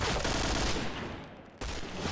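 Automatic gunfire from the video game Point Blank: a loud, dense burst of shots that fades, then resumes abruptly after a brief gap.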